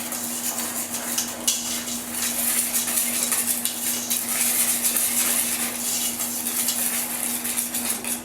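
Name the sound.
whisking cornstarch mixture for homemade ice cream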